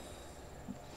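Train running on rails in the video game XCOM 2, a low, steady rumble and hum at moderate distance with a faint squeal of wheels, no talking.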